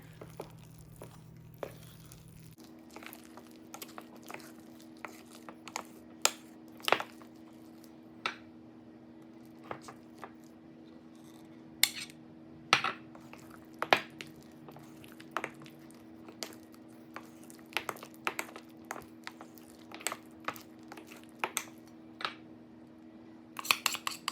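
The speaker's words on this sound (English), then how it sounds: "Just mix it, right? Just fold it." Pumpkin muffin batter folded together by hand with a spatula rather than a whisk, giving soft, wet squishes and scattered light scrapes and clinks against the bowl, steady and close with no talking.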